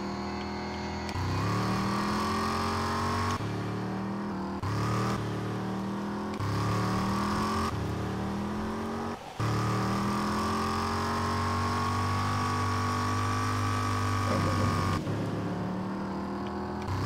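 Car engine in the video game RAGE, a steady mid-pitched drone with rising and falling revs and brief gear-change breaks as the vehicle drives along, loud and continuous with no talk.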